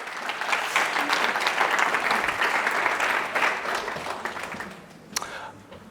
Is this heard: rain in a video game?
no